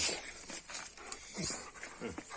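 A snapping yellow dog pants in quick, rhythmic breaths with faint whimpers, close by but quiet, the sounds coming in short uneven bursts.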